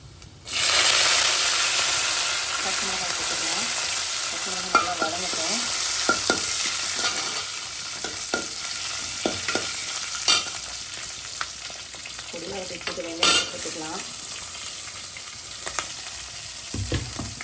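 Curry leaves dropped into hot oil for a homemade fish curry sizzle and crackle steadily, with occasional scraping stirs and clicks of a utensil against the pan, close and alone with no talk.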